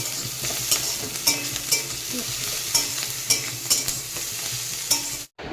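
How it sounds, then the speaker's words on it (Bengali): Onion, capsicum and chili frying in a pan, a steady close sizzle punctuated by regular scraping strokes of a spatula roughly every half second, ending in a brief dropout. "এদিকে আমি পেঁয়াজ ক্যাপসিকাম আর লঙ্কাটা ভাজছি"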